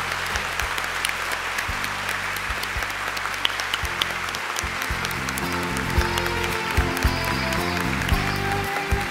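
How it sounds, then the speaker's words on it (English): An audience at a 2015 scholarship awards presentation ceremony gives steady, sustained applause throughout, with low musical tones playing underneath the clapping. "join me in applauding and giving a big thank you to your families, to your teachers, and to your friends"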